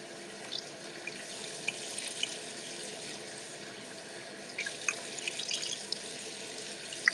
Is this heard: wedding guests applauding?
no